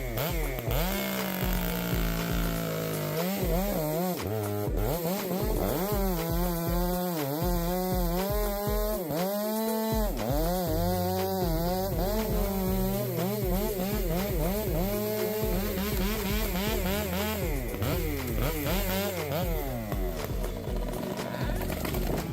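A Stihl 462 chainsaw with a 20-inch bar and 72.2 cc engine cuts through fir trunks, its loud engine revving and bogging in continuous rising and falling surges throughout, up close with no speech.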